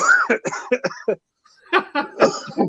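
A short burst of coughs sounds close up, followed by a pause and another cluster of rough coughing.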